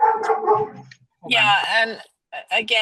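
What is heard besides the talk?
dog barking during a video call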